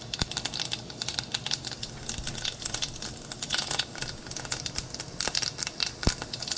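Mustard seeds splutter in hot oil in a home kitchen, a dense run of sharp crackling pops close up, with occasional louder snaps and no talking.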